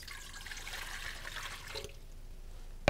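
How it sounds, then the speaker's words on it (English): Water and oil poured into a mixing bowl for pizza dough, a steady liquid pour running for nearly two seconds before stopping, followed by quiet and a brief knock at the end. "So if you want to go ahead and pour the water and the oil in there."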